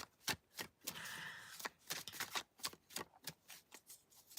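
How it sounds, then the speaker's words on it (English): Tarot cards shuffled by hand in a run of crisp, irregular riffles and snaps, with one longer continuous riffle, close and fairly quiet. "So I'm shuffling tarot cards"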